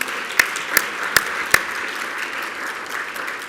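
A small audience at a funders' forum breaks into light, sparse clapping, with a few sharp distinct claps standing out over a thin, fading patter.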